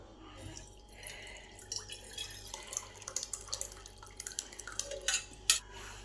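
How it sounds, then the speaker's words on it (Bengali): Water from mashed cooked rice trickles and drips through a kitchen strainer, soft pattering that grows into denser splashes and drips toward the end. "এবার এই জলটাকে ভালো করে স্ট্রেনারে করে ছেঁকে নিতে হবে।"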